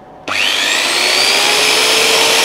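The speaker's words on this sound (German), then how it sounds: "jetzt lassen wir nochmal diese Bohrmaschine laufen mit 900 Watt" A 900 watt electric drill powered through an ERAYAK 1500 watt 12 V inverter kicks on abruptly and runs at a steady, loud, high whine, close by with no talking.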